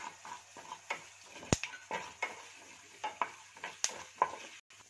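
Ingredients for ginger pickle fry in hot oil in a pan, giving soft crackling sizzles with repeated scraping stirs and a few sharp utensil clicks against the pan, fairly quiet and close.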